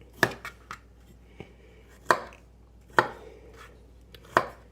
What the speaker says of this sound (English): use your knife and or your spoon to cut off all that skin